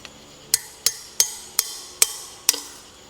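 A hammer strikes a nut on a dirt bike wheel hub six times in steady succession, each blow a sharp, ringing metallic crack that fades quickly, close up with no talking.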